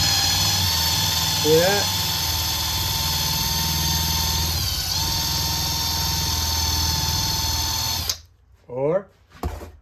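A power tool spinning a polishing wheel on aluminum gives a loud, steady high-pitched whine that drops briefly mid-run, then cuts off and winds down; someone speaks briefly over it.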